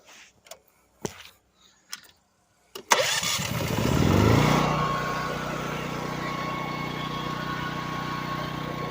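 A small engine generator, choke pulled, is started after a few sharp clicks and knocks: the engine catches, revs briefly, then settles into a steady close idle hum that continues to the end.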